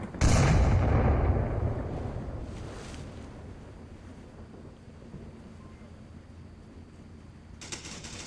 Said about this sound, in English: Lots of nades coming out.